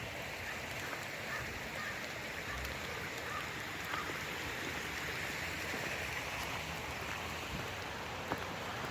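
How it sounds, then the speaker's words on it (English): Water flows in a steady, even rush under wooden pallets laid in a canal, a continuous close trickling wash with no voices. "I put a couple pallets in there and it made it so the water flows right underneath me"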